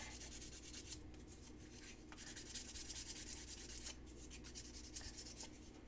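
Sandpaper wrapped around a tongue depressor rubbed over a small workpiece, quiet repeated scratchy strokes in an uneven rhythm, close and soft with no voices.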